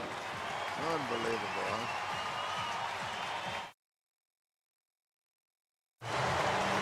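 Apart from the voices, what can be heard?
baseball stadium fans cheering and applauding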